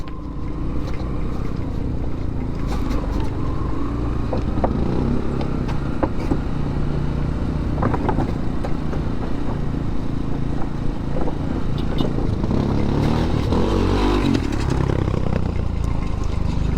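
Continuous engine drone of motorcycles rolling past on a mountain road to Shimshal Valley, steady and fairly loud, with no voices over the rumble.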